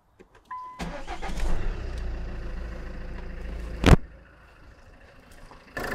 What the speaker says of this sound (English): Let's do the cranking test